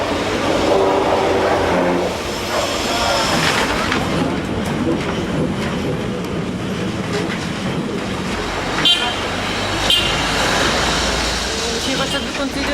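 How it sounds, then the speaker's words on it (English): A colourful Lisbon tram, route 28, rumbles and clatters through the narrow, hilly streets of the old quarter, with a steady loud rolling noise, a few sharp rail clicks and squeals, and people talking over it. "One of the most pleasant ways to discover Lisbon is on board one of these colorful trams, which snake their way through the narrow streets of the old quarter."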